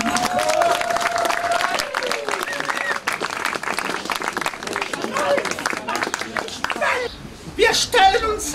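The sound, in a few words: audience applause at a gallery opening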